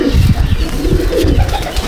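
Close, steady cooing from pigeons in a loft, soft repeated throaty pulses filling the short moment.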